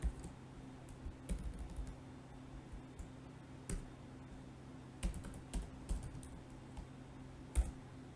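Sparse keystrokes on a computer keyboard while code is typed, scattered taps and short bursts of clicks over a low steady hum, no talk.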